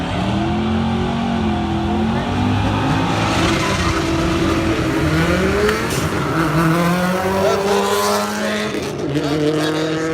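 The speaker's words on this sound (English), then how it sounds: "Chevy and Ford, the classic matchup, the Nova and the Mustang on track number 1." Chevy Nova and Ford Mustang drag racing on a track, engines roaring loudly and continuously with rising revs and some tire squeal, racing noise filling the whole stretch.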